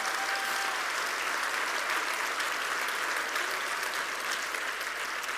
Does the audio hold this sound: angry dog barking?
no